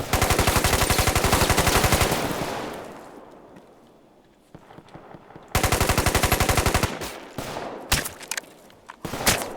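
Automatic gunfire in the Roblox war game Guerre de l'Est, loud rapid bursts near at hand: a long sustained burst, a pause with faint scattered shots, then another burst and a few isolated shots.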